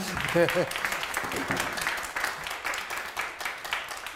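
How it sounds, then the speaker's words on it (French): A crowd at a public event in Nice, France applauds with steady clapping while a person speaks in French over the start of it. "je crois qu'on peut les applaudir"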